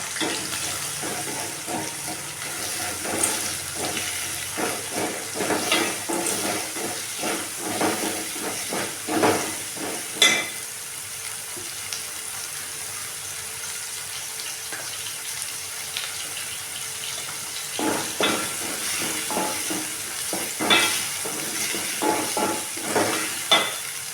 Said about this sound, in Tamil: அதே வானலில் கொஞ்சம் எண்ணெய் விட்டுருக்கேன் எண்ணெய் எடுத்துகிட்டு அதிலே போட்டுடலாம் வெங்காயம்